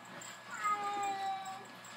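A cat gives one drawn-out meow, clear but moderate in level, over a faint background hum.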